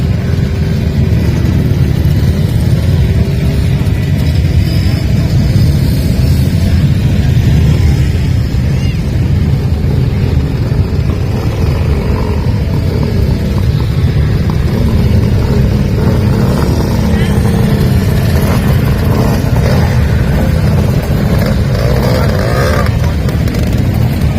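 Motorcycles pushing through traffic at a vintage commercial vehicle event, a loud, continuous mix of engine rumble and revving from bikes and other vehicles close by, with no talking.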